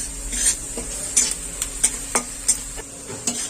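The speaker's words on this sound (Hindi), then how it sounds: "और मसाले को भी अच्छी तरह से भून लेते हैं।" Masala and onion fry in a pan with a soft steady sizzle, broken by repeated scraping stirs of a spoon against the metal, close and fairly quiet, with no talking.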